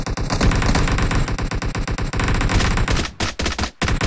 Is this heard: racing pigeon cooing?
no